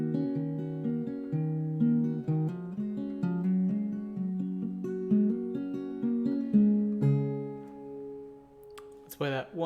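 An acoustic guitar plays a song slowly, with clear picked notes and chords ringing out one after another at a gentle, even pace, played alone without talking.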